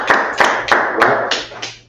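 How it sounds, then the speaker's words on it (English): Hands clap in a slow, regular rhythm, about six sharp, close claps spaced roughly a third of a second apart, alone without talk. "Clap it up."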